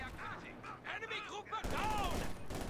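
An artillery barrage in Company of Heroes 2 lands as a rapid run of booming impacts and gunfire, with a louder, denser burst of blasts in the second half, while a voice talks over the battle.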